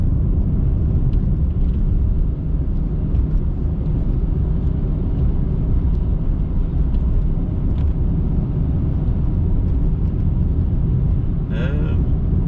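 A car drives at 65 km/h through a snowstorm, heard from inside as a steady, loud, low road and engine rumble that continues evenly throughout, with a brief faint higher-pitched sound near the end.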